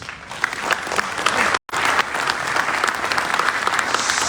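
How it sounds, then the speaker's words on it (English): An audience at the Liberia 2023 presidential election debate gives a big hand of steady, dense applause. The clapping is close and sustained, with one brief dropout. "I want us to give them a big hand of applause."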